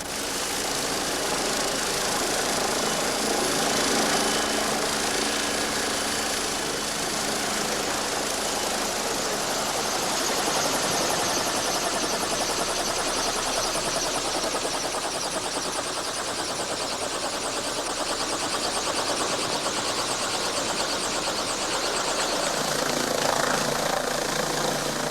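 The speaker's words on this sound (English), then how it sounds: "Landing conditions are so precarious that a helicopter" A helicopter drones steadily near a remote lighthouse, its engine and rotor making a loud, continuous roar that holds without pause.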